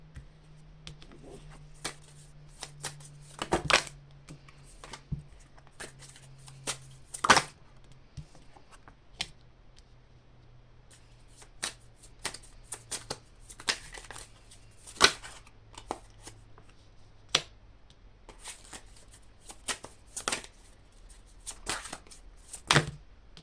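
Tarot cards being shuffled by hand, a sparse run of soft riffles, slaps and taps spread over a quiet background with a faint low hum, close and fairly quiet, no speech.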